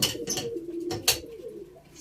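Pigeons coo close by in a short burst of soft, throaty calls, with a couple of brief sharper bird sounds mixed in.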